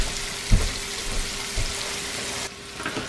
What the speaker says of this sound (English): Now we're just cooking these on like just medium heat, and we're gonna start rolling them around here a little bit.